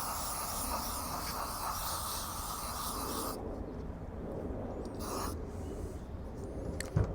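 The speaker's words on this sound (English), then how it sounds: "you're just going to want to spray this inside down really good." A loud, steady aerosol hiss of throttle body cleaner sprays inside the throttle body of a 2004-2008 Ford F-150 for about three seconds, stops, then returns in a short burst, close by with no talking.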